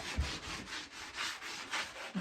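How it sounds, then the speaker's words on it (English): Steady back-and-forth rasp of a sanding block rubbing across wood, repeating in even strokes about twice a second, close and alone. "I'm going to spend some time with my trusty sanding block"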